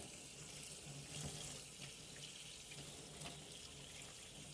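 Steady rush of tap water running into a kitchen sink while vegetables are washed, continuous and fairly close, with faint splashes and no talking.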